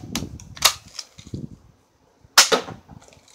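A BB gun fires a few sharp, close snaps separated by quiet gaps, with softer handling clicks and rustles in between.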